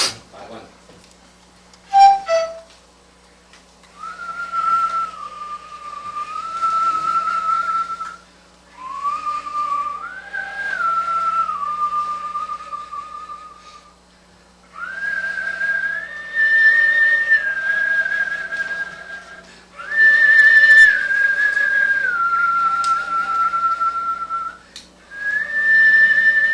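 Breathy, airy flute tones with a whistling edge, played in several sustained phrases separated by short pauses, close and clear.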